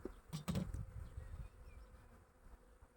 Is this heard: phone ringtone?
no